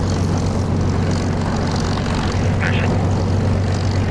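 A propeller aircraft taxis toward runway 08 in the DCS flight simulator, its engine droning steadily and loudly throughout, with no pauses and a brief faint chirp partway through.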